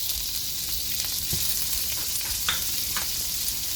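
Eggs and hotdogs fry in a pan with a steady, bright sizzling hiss and occasional spatula clicks and pops, close up and continuous, no one talking.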